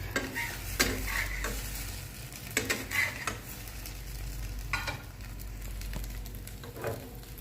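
Eggs frying in hot oil in a pan, a steady close sizzle with intermittent scraping and stirring clatter from a utensil, no talking over it.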